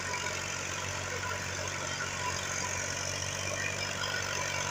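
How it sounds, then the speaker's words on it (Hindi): A tractor running a rotavator while preparing a field for wheat, a steady low engine drone with a rough churning texture, even and continuous throughout. "अब जैसे कि ये रूटावीटर चल रहा है"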